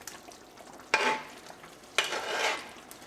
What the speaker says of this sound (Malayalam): നമുക്കൊന്ന് ഇളക്കിയിട്ട് കൊടുക്കാം.